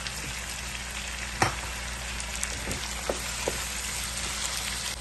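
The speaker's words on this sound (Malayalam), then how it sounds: "ഇനിയും ഇതിലേക്ക് ഈ തക്കാളി അരിഞ്ഞത് ഇട്ട് ഒന്ന് വഴറ്റിയെടുക്കാം" Chopped tomato sautés with potatoes in a pan for an eggplant and potato sabji, making a steady soft sizzle with a few sharp stirring taps and clicks, close up and free of talk.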